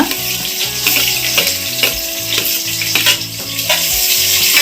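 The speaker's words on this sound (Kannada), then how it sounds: "ಇದು ಚೆನ್ನಾಗಿ ಗೋಲ್ಡನ್ ಬ್ರೌನ್ ಬರೋವರೆಗೂ ಫ್ರೈ ಮಾಡ್ಕೊಳ್ಳೋಣ" Finely chopped onions, two thick ones, fry in oil for mushroom biryani, giving a steady loud sizzle throughout with occasional stirring clatter and a low tonal background hum, no talk.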